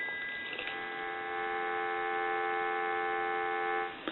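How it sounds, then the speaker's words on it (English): Steady dial tone from a Western Electric 302 rotary desk telephone, a continuous buzzing hum of layered tones that holds evenly for about four seconds before cutting off, alone with no talk. "I'll give you some dial tone."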